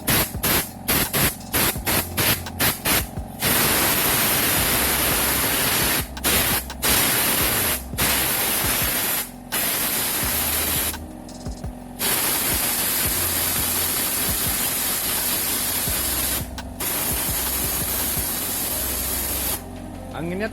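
A Lakoni Basic 9S air compressor releases repeated bursts of air, first a quick run of short hissing blasts, then longer sustained sprays with brief gaps, loud and close throughout.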